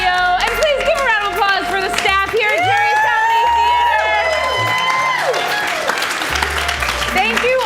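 A loud crowd at Jerry's Comedy Theater applauds, with whoops and bright tonal whistles or voices weaving over the steady clapping throughout.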